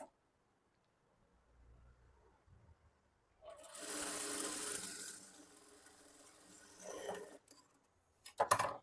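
A sewing machine runs in a quick burst while stitching a blouse seam, a close whirring rattle that starts after a quiet lead-in, pauses, then restarts briefly with a few clacks at the end.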